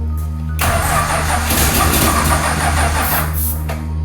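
An old car engine in a broken-down car being restored in Australia cranks briefly, then catches and starts, settling into a loud, rough idle that runs steadily close by before cutting off near the end.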